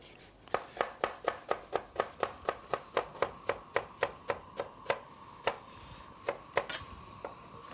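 A knife finely slicing food on a cutting board in a regional cooking setting, giving about twenty crisp, evenly spaced chops at a steady brisk rhythm that slows and thins out toward the end, close and clear with no talking.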